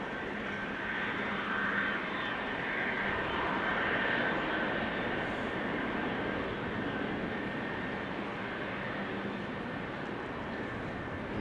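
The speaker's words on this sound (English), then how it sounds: "Turkish A330 is flying base and is going to turn final shortly" A Turkish Airlines A330 jet approaching to land at Amsterdam Schiphol gives a continuous, loud, broadband engine roar that holds steady throughout, with no talk.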